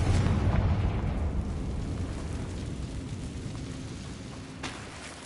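A Confringo spell explodes in the Hogwarts Legacy video game, giving a loud blast at the start and then a long rumbling decay that fades slowly.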